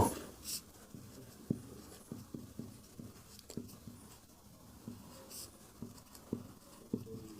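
Handwriting on paper during a maths lesson, a series of soft, quiet pen strokes and taps in irregular bursts, close by and alone without speech.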